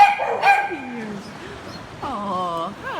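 Dogs at an adoption shelter yelp and whine in short bursts, with a brief high bark early and a drawn-out whimpering cry near the end, heard close by alongside a person talking softly to them.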